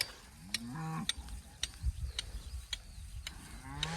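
Aubrac cattle moo nearby in short, low calls, alongside regular metallic clicks and clanks like a ratchet or gate mechanism.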